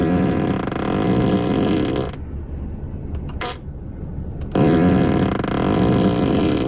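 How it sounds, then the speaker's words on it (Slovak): A Tesla P100D plays its fart-mode novelty sound on demand: loud, raspy, broadband blasts with a brief quieter sputtering gap in the middle, close and prominent. "keď tlačíte toto tlačítko tu na volante, tak si auto prdne akýkoľvek prd to auto len chce vyprdnúť"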